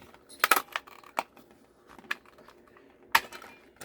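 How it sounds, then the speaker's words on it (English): A handheld paper punch cuts a 2-inch circle from garden green paper for a toothbrush stocking stuffer, giving a few quiet, sharp clicks and clacks with short pauses between. "I'm going to punch a 2-inch circle."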